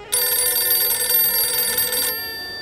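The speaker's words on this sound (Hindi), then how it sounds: "इस वक्त किसका फोन आ गया?" A telephone rings once, a bright, buzzing electronic trill lasting about two seconds, then cuts off abruptly.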